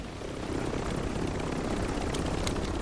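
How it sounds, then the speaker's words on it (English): Helicopter in the Call of Duty video game, a steady close rotor and engine drone running without a break, loud and alone with no talk over it. "And I'm gonna jump in the chopper."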